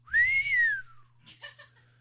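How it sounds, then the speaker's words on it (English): A person whistles at a home and garden show: one loud rising-then-falling whistle, followed by a short faint burst of voice over a steady low hum. "The whistle."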